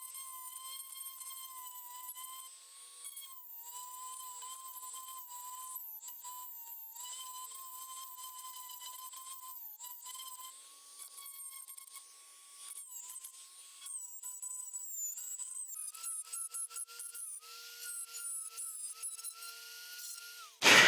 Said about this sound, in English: we basically just had to Dremel these sort of flat square ones